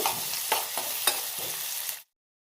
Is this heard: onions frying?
yes